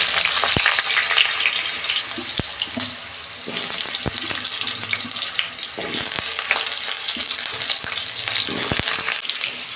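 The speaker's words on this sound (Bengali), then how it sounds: "তেল গরম হয়ে গেছে, আলুটা ভেজে নেব।" Potato pieces fry in hot oil in a wok, giving a loud, steady sizzle with scattered crackles and pops that continue throughout with no voices.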